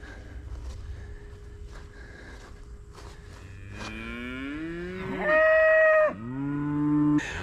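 A newborn bull calf on a farm moos several times, the calls growing louder with one long, strong bellow near the end, heard close against quiet farm background.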